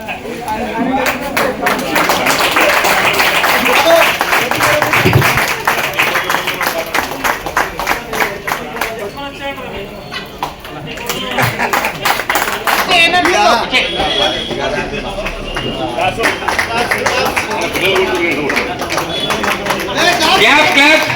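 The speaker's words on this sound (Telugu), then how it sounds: "clap clap" Rhythmic group clapping at a school alumni reunion, sustained and loud across the whole stretch, with crowd chatter and voices mixed underneath.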